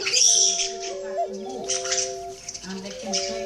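A pet bird gives soft cooing and whistled calls, with tonal notes rising and falling close by while a person talks over it throughout.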